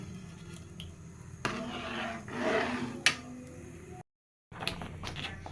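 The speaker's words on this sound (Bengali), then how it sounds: "এখন একটু ঘন ঘন নাড়তে হবে, তাহলে আর তলায় ধরে যাবে না।" A spoon stirs semolina (suji) and water in a cooking pot, making soft scraping and squishing strokes with an occasional sharp tick, faint and close, with a brief gap of silence.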